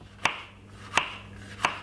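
A knife chops through spring onion on a cutting board in three sharp, evenly spaced strikes, each a crisp thud against a quiet kitchen background.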